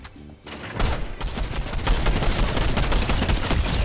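Rapid bursts of gunfire from a Fortnite match played on controller, dense and loud after a brief quieter lead-in, continuing steadily for several seconds.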